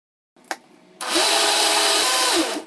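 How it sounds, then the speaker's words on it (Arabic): A blender whirs loudly and steadily for about two seconds after a brief click and a short pause, with no talk, blending ingredients for homemade sweetened condensed milk. "حنضرب المكونات مع بعض في الخلاط"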